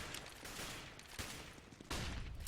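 Counter-Strike gunfire on the Mirage map in a professional match, a few quiet bursts of shots spread through the moment, with a louder burst near the end as a player scores a kill.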